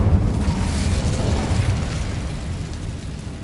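Incendio fire spell from Hogwarts Legacy erupting in a loud, dense rushing blast that roars from the start and stays broad and steady, fading only slightly over a few seconds with no voices.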